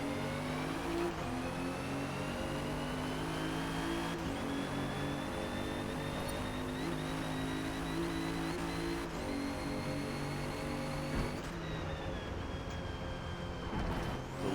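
A 2017 Alfa Romeo Giulia racing at Laguna Seca in the Forza Motorsport video game, its engine droning and revving steadily with repeated rises and drops through gear changes, loud and continuous without talk.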